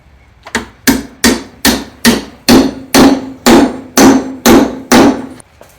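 A socket is hammered down onto a cupped grease retainer in a 1967 Triumph T100C motorcycle wheel, about ten sharp, evenly spaced metallic blows, close and loud, with no talking.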